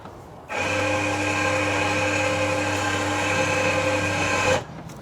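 Electric winch on a golf cart hauling the cart's own weight, starting abruptly into a steady loud motor whine with strong tonal hum that runs for about four seconds, then stops suddenly.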